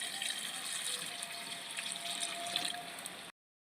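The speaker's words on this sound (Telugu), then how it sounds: "వాటర్ పోసేసుకుందాం." Steady stream of water pouring into a pot of mutton curry with raw mango, a continuous gushing hiss that stops abruptly at the end.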